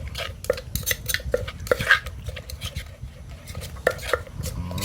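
Shrimp paste chili dip with fried mackerel is scooped into a bowl, with repeated close clinks and scrapes of a spoon against the dish in an uneven rhythm and no voices.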